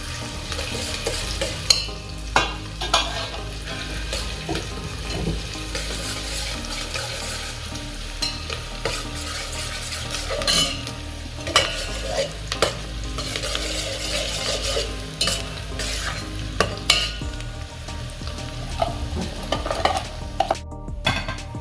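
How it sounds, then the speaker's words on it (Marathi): Onion frying in ghee with shahi jeera in a pot for veg biryani. A continuous close sizzle runs throughout, with frequent scraping and clinking of a spoon against the metal as it is stirred. "आता हा कांदा आपण तुपामध्ये परतून घेणार आहे"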